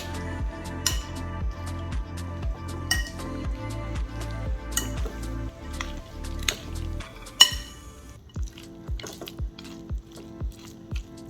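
Chicken salad with lemon is mixed in a bowl, giving a rhythmic run of wet squishing strokes followed by scattered clinks of a spoon against the dish, close and moderately loud.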